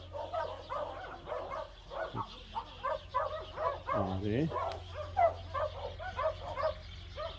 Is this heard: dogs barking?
yes